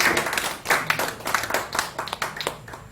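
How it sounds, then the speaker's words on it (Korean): Audience clapping at a lecture, a quick burst of uneven, fairly close handclaps with distinct individual slaps over about three seconds. "박수!"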